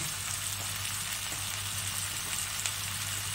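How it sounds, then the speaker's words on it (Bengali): Spices with cumin, turmeric and red chilli powder fry in oil for an egg curry, giving a loud, steady, close sizzle that stays constant throughout with no talking. "দিয়ে মশলাটা ভালো করে ভাজা ভাজা করব।"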